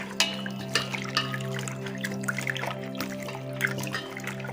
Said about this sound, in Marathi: आलं स्वच्छ धुवून घ्यायचंय